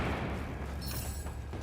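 A grenade goes off in a Battlefield 4 multiplayer match, a loud, close, deep rumbling boom that keeps roaring steadily for the whole moment with a faint crackle on top and no voices.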